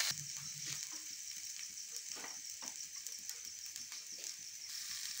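Pea paste sizzles and fries steadily in a pan with ginger-garlic paste, a continuous bright hiss with faint stirring scrapes throughout, no voices.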